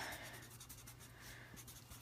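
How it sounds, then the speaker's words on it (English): Pen scratching out notes on paper, a soft continuous scraping with small strokes and pauses, close and quiet under a low steady hum, with no voices. "Do you like how I write this stuff down?"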